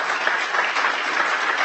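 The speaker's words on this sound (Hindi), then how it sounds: "a big round of applause for all of you" An audience at a televised event in Pakistan applauds steadily, a dense, even wash of clapping from many hands that runs throughout without pauses.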